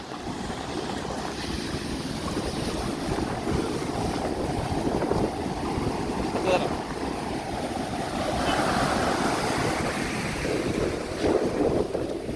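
Steady roar of sea waves surging ashore at high tide, loud and continuous, with wind buffeting the microphone throughout.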